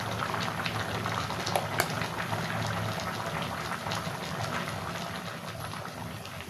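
Lau katla curry, bottle gourd and katla fish, simmering in a pot over a medium-low flame, giving a steady soft bubbling and hissing with scattered small pops, close and continuous with no talking.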